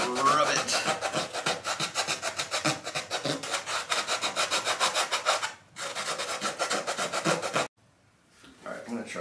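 Rhythmic rubbing and scrubbing on the interior liner of a vintage AMF-era Harley motorcycle, rapid back-and-forth strokes close up, pausing briefly twice before a softer final stretch.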